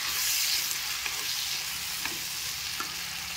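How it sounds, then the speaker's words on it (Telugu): Raw mango and brinjal pieces sizzle in a hot pan while a utensil stirs them, a steady loud frying hiss broken by a few light scraping clicks. "ఇప్పుడు వీటిని బాగా కలిపేయండి."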